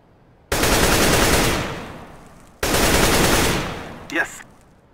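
Rapid automatic gunfire in CS:GO, two loud sustained bursts each trailing off as the magazine runs low, followed by a short metallic ring.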